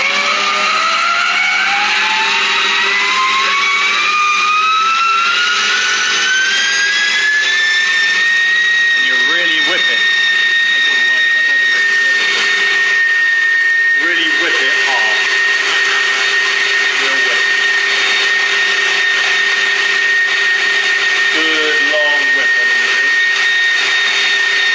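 A stand mixer whisks carrot cake batter, its motor whine rising steeply as it's turned up to high speed, then holding a loud, steady pitch throughout, with faint speech-like sounds flickering underneath.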